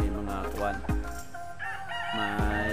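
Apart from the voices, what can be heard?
backyard chickens and fighting cocks clucking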